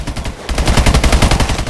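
Rapid automatic gunfire rattles in Exo Zombies, a loud, steady burst of closely spaced shots after a brief pause, with no talking.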